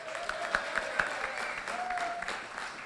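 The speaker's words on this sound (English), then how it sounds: "round of applause for Jane Mangan" Audience applause at a Cheltenham racing preview panel night, a broad wash of clapping at moderate level with faint talk and a sustained tone running underneath.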